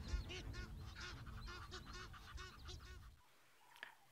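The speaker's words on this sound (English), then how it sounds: "Drama indeed in the world of the Egyptian geese at Chitwa Dam" Egyptian geese at Chitwa Dam waterhole honk in a rapid run of loud, harsh calls lasting about three seconds, then stop, leaving quiet with one faint call at the end.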